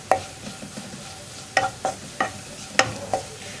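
Spice powders frying in oil over a low flame while a spoon stirs them for a chicken curry, heard as soft scraping strokes in an irregular rhythm against a faint sizzle, with no talking.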